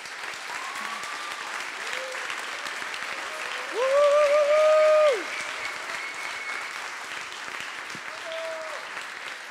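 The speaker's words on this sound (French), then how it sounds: "Merci à tous pour les applaudissements." Steady applause from the audience at a Le Wagon coding bootcamp demo day in Paris, a continuous wash of clapping that runs throughout while tones and a brief louder tonal sound rise over it.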